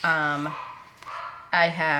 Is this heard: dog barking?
yes